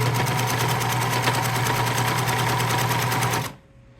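A sewing machine stitches fabric at high speed, a loud, steady mechanical whir with rapid needle rhythm that runs without a break for several seconds, then cuts off abruptly into near silence.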